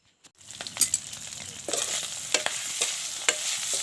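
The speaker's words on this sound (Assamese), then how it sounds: "এয়া মই গাহৰি মাংস বনাই আছোঁ।" Pork that was boiled first now frying in a pan, a steady close sizzle with scattered sharp crackles and stirring clatters over about four seconds, no voices.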